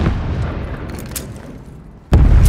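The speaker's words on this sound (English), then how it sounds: "Throwing stun grenade." A stun grenade goes off in a video game with a sudden loud blast near the end, after a stretch of quieter ambient rumble and a few distant thuds.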